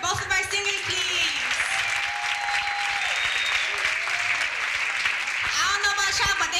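Audience applause for two singers at a community commemoration event, steady dense clapping throughout, with a few voices and whoops rising above it near the start and end.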